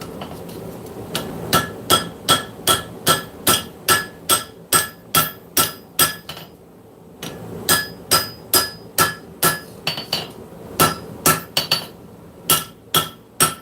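Hand hammer ringing on hot steel at the anvil while forging a knife blade, a steady series of sharp, bright clanging strikes in quick rhythm, with a brief pause midway, close and loud with no talking.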